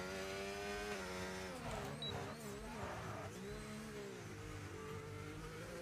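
Race cars circle a wet Hungary circuit in a racing video game, an Aston Martin among them, engines droning and shifting pitch steadily throughout at a moderate, even level with no one speaking.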